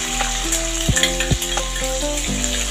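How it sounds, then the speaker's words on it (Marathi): Cumin seeds, green chilies and crushed garlic crackle in hot oil for chapati chivda, a continuous close sizzle broken by a few sharp stirring knocks against the pan. "तेल तापलं की जिरं घालायचं, मग नंतर हिरवी मिरची आणि लसूण ठेचलेली घालायची"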